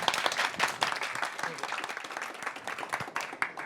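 An audience claps to vote for unicorns at a live French show, a close, busy burst of applause with dense overlapping hand claps, voices faintly mixed in underneath.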